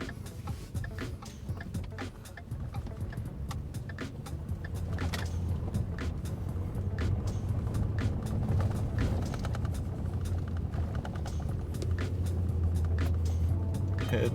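A car drives up a bumpy drive at a speedway on its way in, its engine a steady low rumble with jolts and rattles from the rough surface, close and continuous throughout with no talk.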